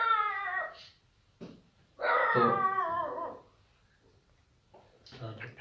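A nearby dog lets out long, wavering whimpering howls in two bursts, then gives short yips and a bark, with brief quiet gaps between them.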